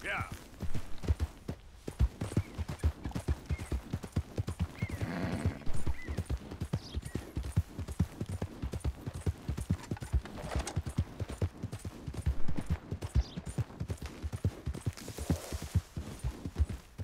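Horse hooves clip-clopping in a steady rhythmic gait while riding downhill in Red Dead Redemption 2, close and continuous for the whole stretch, with someone talking over it now and then.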